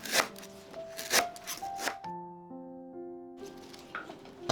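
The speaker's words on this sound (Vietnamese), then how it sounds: "Phần sả thì mình cắt lát xéo, lấy phần non thôi." Three sharp knife chops slicing lemongrass against a board, then a pause with a soft musical tone, followed by a few faint cuts.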